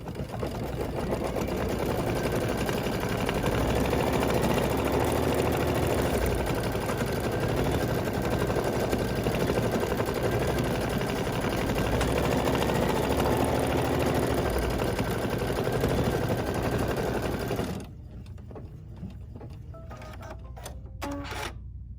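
An embroidery machine stitches down appliqué fabric for a Kimberbell mini pillow, a rapid, steady mechanical chatter that runs loud and close for most of the stretch, then cuts off, leaving a few faint clicks.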